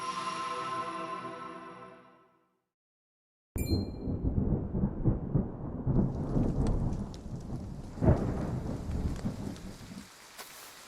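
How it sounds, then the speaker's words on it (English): Rain and thunder in the video game Triangle Strategy: a tonal passage fades to silence, then a loud, steady downpour crashes in with rumbling thunder, a bright crack near the eight-second mark, and the hiss continues alone. "Rain! Honest to goodness, rain!"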